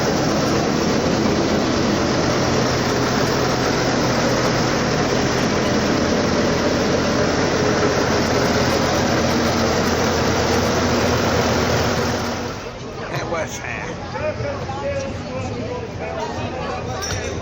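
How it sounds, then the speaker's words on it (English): A Gardner engine-driven generator runs at a busy fairground, a steady loud drone with crowd chatter and babble over it, easing slightly near the end. "Is that a Gardner? Gardner generator, do we think?"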